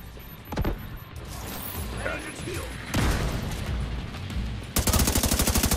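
Gunfire in The Division 2 comes as scattered shots and booms amid game noise, ending in a loud rapid automatic burst, with voices talking through parts of it.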